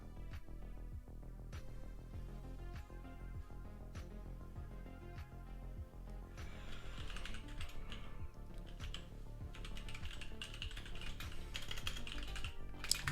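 Steady typing on a computer keyboard while writing code for an Advent of Code 2021 puzzle, close and clear with rapid irregular key clicks throughout and no talk.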